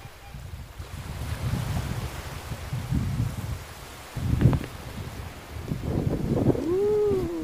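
Gusty mountain wind on Mt. Cabuyao buffets the microphone outdoors in rising and falling rumbles, with a few brief whistling tones near the end.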